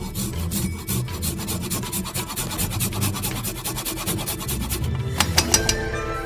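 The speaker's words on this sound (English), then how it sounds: "Let's grate some ginger directly into the pan." Fresh ginger is grated directly over a frying pan with sesame oil, giving a close, rhythmic rasping scrape of repeated quick strokes that ends with a few sharper taps, and nobody speaks.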